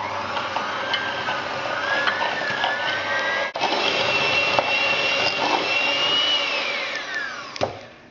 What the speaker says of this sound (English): So put the butter in, the sugar in, and then we'll just whisk those together.